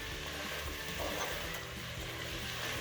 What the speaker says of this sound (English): I'm going to go ahead and take the lid off and stir this up.